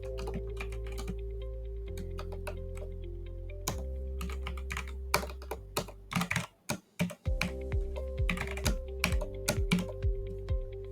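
Python code being typed on a computer keyboard: close, quiet bursts of rapid key clicks with a short pause midway and no talking.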